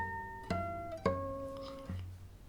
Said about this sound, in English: Artificial harmonics,